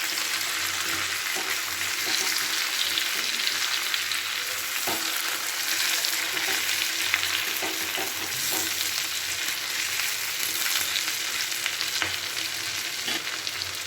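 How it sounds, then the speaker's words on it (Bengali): Pointed gourd sizzles steadily in hot oil with a tempering of white cumin, stirred in the pan, giving an even, continuous frying hiss with faint scraping throughout and no talking. "আমি একটুখানি সাদা জিরে ফোড়নে দিয়ে দিলাম। দিয়ে পটলগুলো আর একটু ভালো করে নাড়াচাড়া করে নিচ্ছি এর সাথে।"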